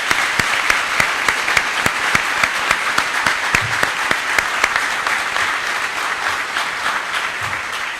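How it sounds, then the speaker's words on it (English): At a recruit class graduation ceremony, the crowd gives a loud, sustained round of applause for instructors and staff, many hands clapping at once with sharp individual claps popping out near the front. "let's give the instructors especially and the staff another round of applause"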